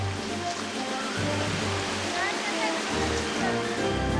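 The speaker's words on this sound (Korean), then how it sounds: "보통의 계곡 폭포와는 많이 다른 99리 온천 폭포" The 99-li hot spring waterfall in China gives a constant, loud rush of falling water, with a low voice murmuring faintly underneath at times.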